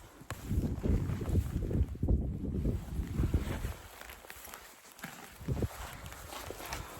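Wind buffets the microphone on an open hillside in the Knoydart hills during a red deer stalk, a loud, uneven rumble with gusty swells that ease and return, mixed with faint rustling and footsteps.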